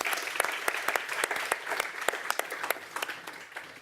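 A small audience claps through a livestreamed thank-you segment, with a sparse, uneven run of individual hand claps at moderate loudness and no talk over it.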